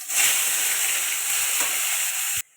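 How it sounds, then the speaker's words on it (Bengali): Onion paste frying in oil left over from frying khoira fish, a continuous loud hiss and sizzle that cuts off abruptly near the end. "ওই তেলে দিয়ে দেবো পেঁয়াজ বাটা"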